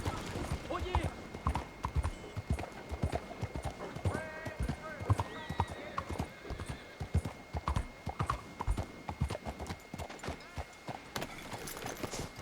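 Horse hooves clip-clop in a fast, steady rhythm in Red Dead Redemption 2, close and clear throughout, with voices talking over the riding.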